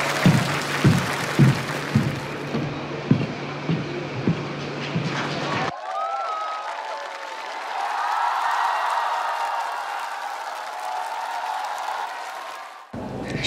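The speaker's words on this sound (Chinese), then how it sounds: "掌声有请。" Studio audience applauding and cheering to welcome a singer onto the stage at a televised Chinese singing competition, steady crowd clapping swelling and holding for several seconds, with a host speaking briefly over the start.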